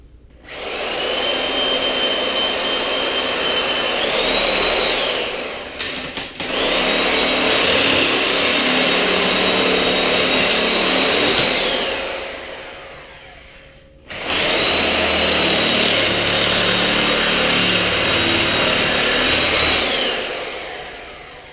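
A loud, whining power saw runs in three long stretches with short pauses between, its pitch shifting as it cuts into a metal bike frame, close by.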